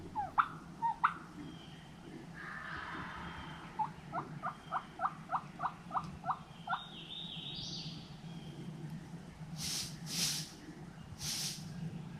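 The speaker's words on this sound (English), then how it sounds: "There's two turkeys together out there in front of us, and they gobble them pretty good on their own" Two distant wild turkeys, about 150 yards away, gobble in quick rattling bursts, a couple of separate calls over a quiet outdoor background.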